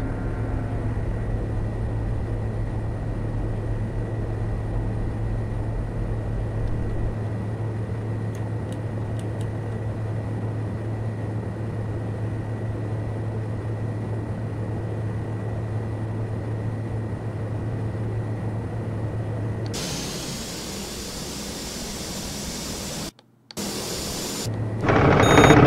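Pilatus PC-12 turboprop in a flight simulator game with gear and flaps coming down, a steady engine drone with faint clicks, then a brighter hiss as the configuration changes, briefly cutting out near the end.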